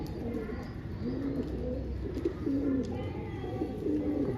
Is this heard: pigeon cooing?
yes